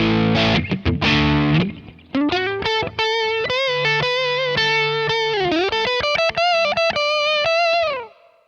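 Distorted electric guitar plays a melodic line with repeated half-step string bends, loud and alone: a quick strummed burst, then sustained notes bending up and down in steady phrases.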